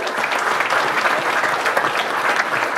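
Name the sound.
audience round of applause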